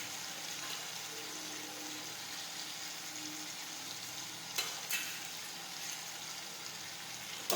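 Cumin and chutney sizzle in hot oil as a tempering for dal, a constant dense crackling hiss with a couple of brief sharp pops, close and steady with no talk.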